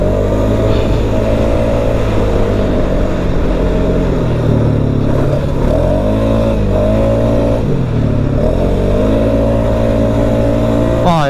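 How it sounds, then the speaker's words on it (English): A Polaris Sportsman 570 Trail Edition ATV rides over ruts and bumps, its engine droning loudly and steadily from close by, with the pitch dipping and rising as the throttle changes. "Nice ruts here, bumps and stuff, and it's, you know, it's an ATV."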